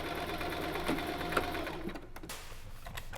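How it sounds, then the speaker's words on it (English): A sewing machine runs steadily at close range, its rapid mechanical whir stitching dress seams, briefly slowing near the end of a short burst. "I'm just gonna sew them up real quick."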